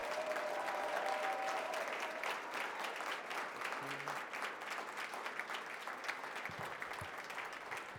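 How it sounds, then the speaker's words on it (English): Sustained applause from an audience at a business meeting honoring scholar athletes, steady clapping that fills the whole stretch with a few louder claps near the end. "If we can give all of our scholar athletes one more round of applause"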